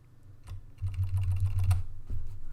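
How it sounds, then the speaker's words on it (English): Computer keyboard arrow keys tapped repeatedly in quick succession at a desk, a run of crisp close clicks with slightly irregular spacing over a faint low hum, no talking. "you can use your up and down arrow keys to change that value"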